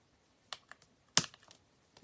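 Glass mosaic tile is cut with a hand tool, giving a quick series of small close ticks and one sharper snap in the middle, followed by faint light clicks.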